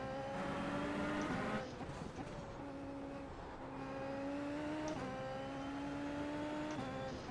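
Super Formula open-wheel race car engine in the iRacing game on the Nordschleife, a high revving whine that rises through gear changes, dips and climbs again as the throttle is feathered, steady and fairly faint.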